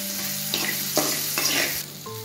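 Dried red chillies roasting and being stirred in a pan for a Vadhanarayanan keerai chutney, giving a soft, steady sizzle with a few louder scraping strokes, heard alone without talk.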